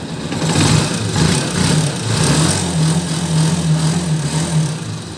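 A Honda TMX 125 motorcycle engine idles steadily nearby with a fast, even, slightly rattling putter that holds a constant pitch throughout.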